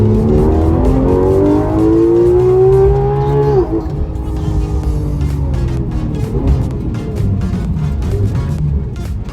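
A Porsche 991 GT3 RS with PDK gearbox howls at full throttle on a racing circuit, its engine pitch climbing steadily before a sharp gear change, then rising again, loud and close throughout.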